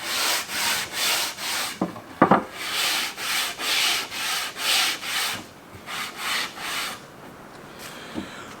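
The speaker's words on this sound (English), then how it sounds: "I'm just here sanding my wood, the exposed wood, my grab rails, and my tiller" Hand sanding of previously varnished wooden boat grab rails and tiller, a close, rhythmic series of about a dozen even back-and-forth rasping strokes, with a few light knocks in between and a quiet pause near the end.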